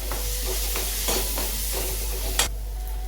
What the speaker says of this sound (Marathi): तर हे टाकून छान असं परतवून घ्यायचं